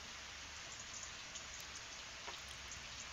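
Soft, steady rain falling in a garden, a quiet continuous hiss with scattered faint drips, gentle and even throughout.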